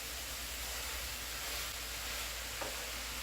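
Steady, close-up sizzling of food frying in a pan, a dense crackling hiss that continues evenly throughout.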